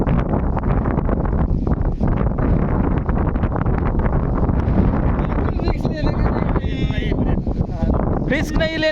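Strong wind on a hillside at Machal in Konkan whips water back upward, a loud, continuous roaring buffet across the microphone with brief faint voices near the end.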